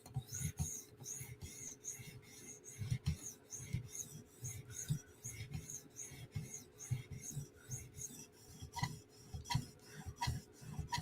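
A Chris Reeve Umnumzaan tanto blade is stroked across whetstones while being polished toward a mirror finish, giving a steady series of close, gritty rasping passes at an even back-and-forth rhythm.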